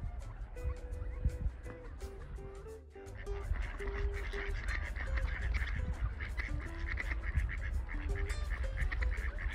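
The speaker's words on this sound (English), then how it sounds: "Sitting with the ducks and on the other side, it's a bunch of swans." Ducks and swans call from a lakeside flock, with steady overlapping quacks and honks close by against a busy outdoor background that continues without a break.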